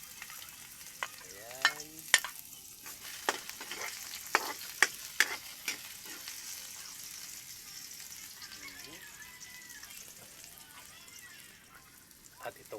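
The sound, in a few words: onions sautéing in a pan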